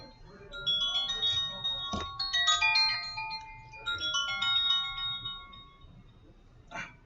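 A mobile phone ringtone plays a bright, fairly quiet electronic melody of rising and falling tones for several seconds, then ends with a short final chirp.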